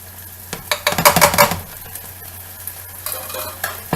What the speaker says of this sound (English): we can go ahead and bloom our spices and our herbs